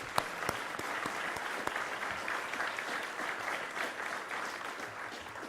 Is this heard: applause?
yes